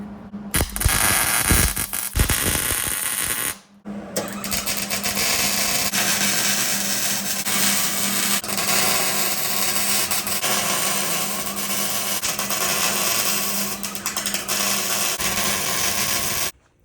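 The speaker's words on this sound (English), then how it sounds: "Forgot to trim the end down before I welded it on." A MIG welder joins a stainless steel exhaust for a BMW E46 using C25 shielding gas, giving a loud, continuous crackling buzz that runs almost unbroken for the whole stretch, with a short pause near the start.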